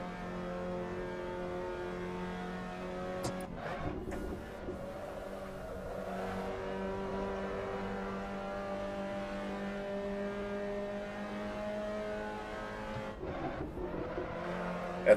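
A race car engine in a racing video game at Zandvoort, a sustained droning whine at steady revs with brief shifts and tyre noise, continuous throughout.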